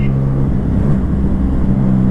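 A Yamaha MT-09 motorcycle engine running steadily in fifth gear at low road speed, a continuous close drone under wind rush, no talking.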